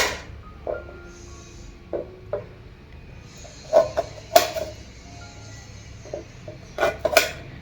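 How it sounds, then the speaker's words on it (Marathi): A knife slices mango ginger root into long strips, making sparse, light taps and scrapes against a cutting board with quiet pauses between cuts, close by and with no talking. "हे बघा आता मी चिरून घेणार आहे बघा, एवढे एवढे लांब असे चिरून घेणार आहे"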